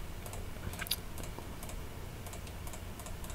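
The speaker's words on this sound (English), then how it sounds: "So I am going to go ahead and punch in my password here." A password is typed on a computer keyboard, a quick run of soft, close key clicks in an uneven rhythm, faint and alone over low background noise.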